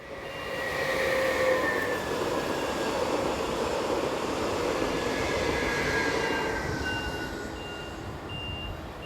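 Passenger train 524103 arrives on a Chiasso to Bellinzona stopping service, rumbling past steadily with broad, continuous noise and faint high-pitched tones drifting above, fading slightly toward the end.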